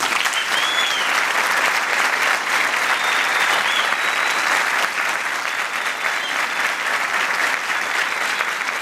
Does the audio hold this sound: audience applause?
yes